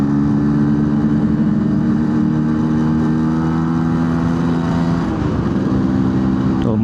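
A Suzuki A100 two-stroke motorcycle engine runs steadily close by with a buzzy, even drone, over-oiled and slightly sputtering, holding its pitch throughout.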